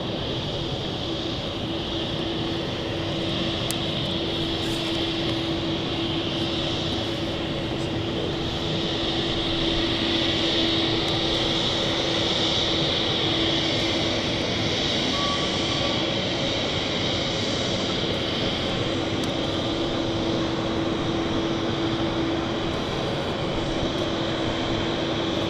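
Aircraft at London City Airport on a misty day, a steady broadband engine roar with a constant tonal hum holding throughout, moderately loud and continuous with no talk.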